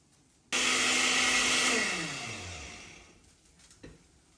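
A countertop blender grinds salsa ingredients with about 200 ml of water and salt, starting abruptly with a loud whirring roar, then its motor pitch gradually drops as it winds down over a few seconds.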